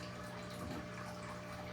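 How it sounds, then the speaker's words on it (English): A gravel vacuum siphons water out of a fish tank during cleaning, giving a steady, fairly faint gushing and bubbling flow that continues unbroken throughout. "you just go through like this and vacuum it a little bit lower"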